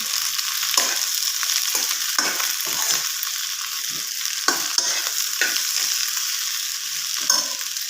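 Okra being stirred and mixed in a frying pan, a steady broad sizzle with repeated scraping strokes of the spoon through the vegetables, fairly close and continuous with no voices.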